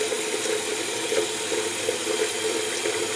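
Water runs steadily from a tap into a sink, refilling for a shave; a continuous close splashing hiss with no talk.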